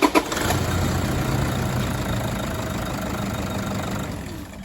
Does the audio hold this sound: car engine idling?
yes